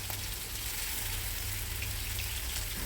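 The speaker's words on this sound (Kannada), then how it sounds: "ಇಲ್ಲಿ ನಾನು ಎಣ್ಣೆ ಬಿಸಿ ಆದಮೇಲೆ ಸಾರ್ಡಿನ್ಸನ್ನು ಮಸಾಲ ಹಾಕಿ ಇಟ್ಟಿದ್ದೆ, ಅದನ್ನೀಗ ಫ್ರೈ ಮಾಡ್ತಾ ಇದ್ದೇನೆ" Sardines coated in masala fry in hot oil with a loud, steady, dense sizzle that crackles continuously from start to finish.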